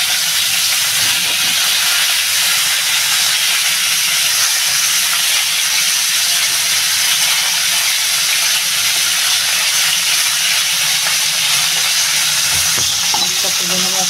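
Tilapia fish fries in hot oil, giving a loud, dense, continuous sizzle and hiss throughout, with a few faint utensil knocks and no talking.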